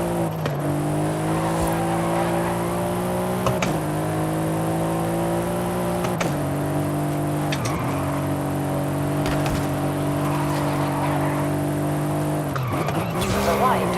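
Understeering car in Forza Horizon 5 with its tires skidding and squealing over a steady droning engine note, the pitch dipping and rising with a few sharper bursts, loud and continuous throughout.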